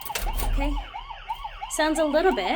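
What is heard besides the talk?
internal emergency exit door alarm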